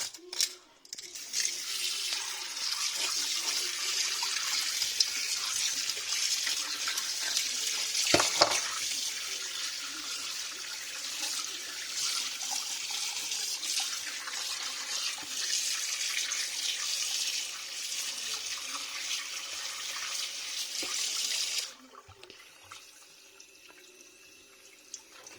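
A cleaned trout fillet is rinsed under a running tap, a loud steady stream of water splashing close by for about twenty seconds, one brief knock in the middle, then the flow cuts off and only quiet room sound remains.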